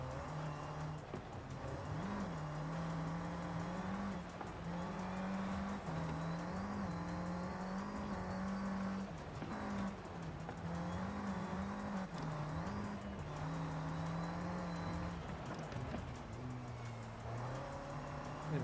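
An S1 class race car in Forza Horizon 5 drives continuously with a steady engine drone that rises and falls as the throttle eases off through corners, with faint tire noise and no talking.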